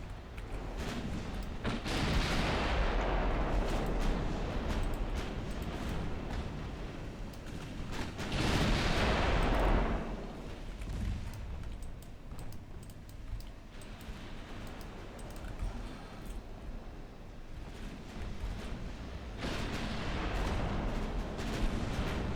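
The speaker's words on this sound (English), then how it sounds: "Torpedo hits on a destroyer." Torpedo hits striking a destroyer in the naval strategy game Ultimate Admiral Dreadnoughts, heard as loud booming explosions that swell at the start and again around nine seconds, over a continuous rumbling battle din.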